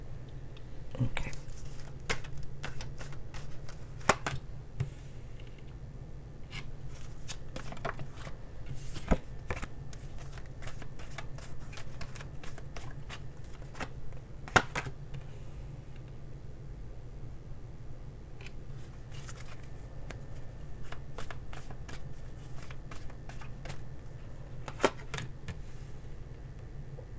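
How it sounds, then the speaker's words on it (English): Tarot cards being shuffled and mixed by hand, a steady run of soft riffling and snapping card clicks over about half a minute, close up, with a low hum underneath and no talk. "I'm being sloppy shuffling here"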